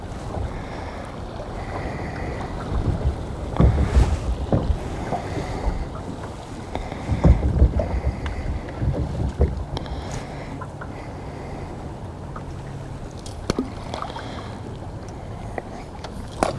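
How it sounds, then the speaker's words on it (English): Strong wind buffets a fishing boat on open water, a constant rushing roar with heavy gusting thumps against the microphone and a low engine-like rumble underneath. "It's a really strong wind. It's kind of slowing the boat down almost too much."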